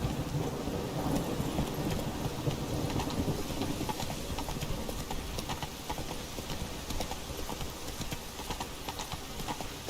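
Roach, Geralt's horse in The Witcher 3, gallops with steady rapid hoofbeats beneath a continuous wash of rain and rumbling storm noise, with no talking.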